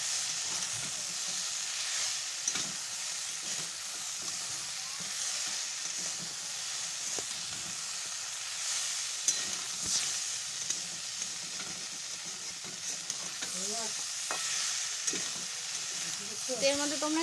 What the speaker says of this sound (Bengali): এবার এর মধ্যে আমি একে একে দিয়ে দেবো হচ্ছে লবণ আর হলুদ, এটা দিয়ে ভালো করে নাড়িয়ে নেব।